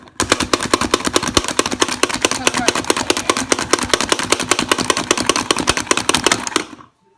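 An onion is rapidly chopped in a Pampered Chef plunger chopper, a long, steady run of sharp, loud clacking strikes repeating quickly for several seconds before stopping.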